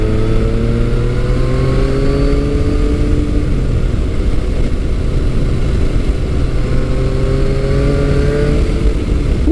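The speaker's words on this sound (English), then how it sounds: "That motor just picks up revs so quickly." A Yamaha FJ-09 motorcycle engine revs hard and climbs quickly through the gears while riding, loud and close, with rising and falling pitch sweeps and no talking.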